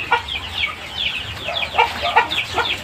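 Aseel chickens cluck close by in a steady, busy series of short calls from several birds, with no talking.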